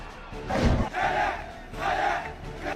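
Protesters in Chile shout together as a large crowd in swelling, overlapping waves of voices, loud and fairly close, with a dull thump near the start, while police disperse them.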